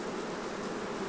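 Honey bees buzzing at an open hive, a dense, steady swarm drone that is close and continuous with no pauses and no voices.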